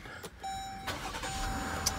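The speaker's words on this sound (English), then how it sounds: "do you hear that V6 purr?" A Dodge Durango V6 engine running smoothly at a low, steady hum, nearby and fairly quiet, with a faint high tone over it and no voices.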